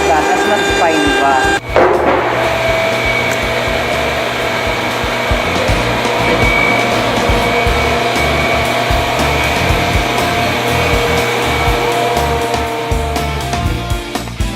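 A CNC machine cuts a decorative panel with a loud, continuous, dense whine and grinding roar. The noise holds steady throughout after a brief sharp burst near the start.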